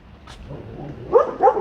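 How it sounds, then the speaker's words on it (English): A dog barks twice in quick succession close by, loud and sharp, after a low growling rumble. "I tried to flip it around so you can see Mr. Doggy showing me his teeth"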